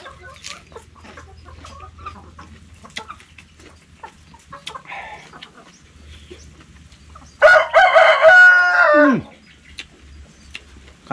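A rooster crows once nearby, a loud drawn-out call of nearly two seconds rising out of a quiet rural background with scattered clucks and faint farmyard noises.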